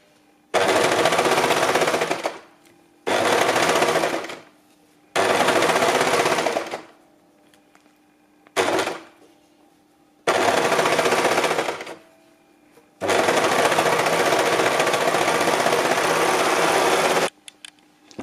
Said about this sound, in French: on l'a fait à la surjeteuse, mais vous pouvez tout à fait le faire à la machine à coudre